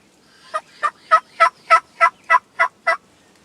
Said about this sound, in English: He just gobbled there.